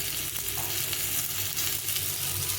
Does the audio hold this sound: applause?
no